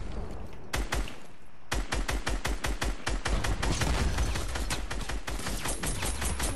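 Rapid volleys of cannon fire from the video game Fortnite, a dense run of sharp repeated blasts with a brief pause before resuming, loud and continuous throughout.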